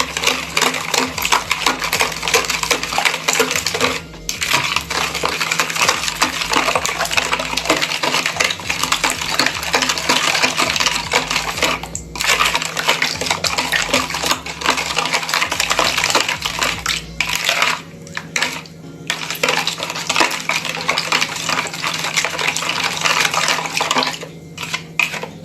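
Spoon stirring powdered milk and sugar into orange cake batter in a bowl, a steady scraping and clinking texture with light watery sloshing, close and continuous for the whole stretch, under a low steady hum.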